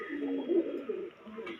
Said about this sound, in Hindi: देख लो उस्ताद जी का फेवरेट कबूतर है